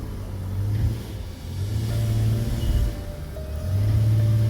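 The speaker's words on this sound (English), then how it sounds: "Alright, I'm revving up." Car engine revving hard in drive on a slick shop floor, held under load while the tires spin, with a steady loud rumble that swells and dips in repeated surges; the engine has a rough idle and a misfiring cylinder.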